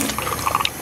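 Water running and filling a bottle from a tap during a gloomy Sunday skate session, a steady splashy pour with brief gurgling bursts toward the end, close by.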